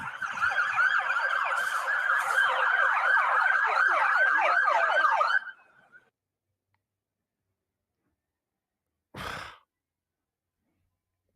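An emergency vehicle siren wails in a rapid warbling yelp for about five seconds, loud and unbroken, then cuts off into silence broken only by a single short thump.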